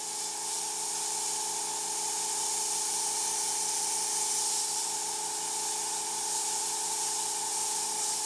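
Airbrush spraying paint during freehand work, a continuous steady airy hiss at close range with a faint compressor hum underneath, no talking.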